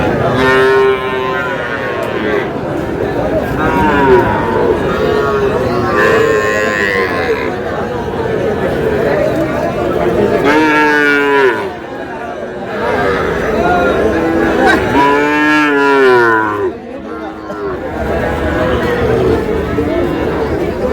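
Cattle moo loudly and repeatedly, long drawn-out bellows from a young bull calf rising over a busy crowd of people chattering nearby at a cattle market in Dinajpur.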